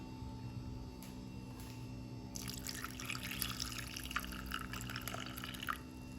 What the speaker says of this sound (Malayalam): ഇതിലേക്ക് തിളപ്പിച്ച് തണുക്കാൻ വെച്ചിരുന്ന പാലിനെ ഒന്ന് ഒഴിച്ചു കൊടുക്കാം.